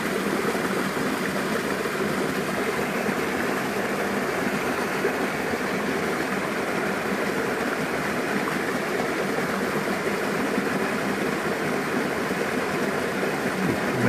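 Boiled water poured over drip coffee grounds outdoors at a remote vista, a steady, even trickling and splashing stream that continues unbroken at moderate level with no talking.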